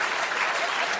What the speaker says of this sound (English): we gotta give him a round of applause